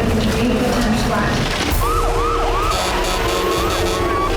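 Sirens from police cars and ambulances racing up a road into a riverside campground to a rescue call, wailing tones sweeping up and down over a steady loud rumble of traffic and engine noise, drawing closer.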